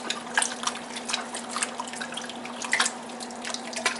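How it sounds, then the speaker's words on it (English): Water running into a beef stew pot, a steady splashing trickle with small drips, close and moderately loud, over a low constant hum. "I'm gonna have to add some water to this anyway,"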